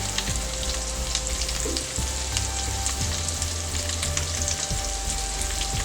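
Potatoes for aloo jeera frying in hot oil in a pan, a loud steady sizzle and crackle filling the whole stretch, close by, with occasional soft thumps of the pan.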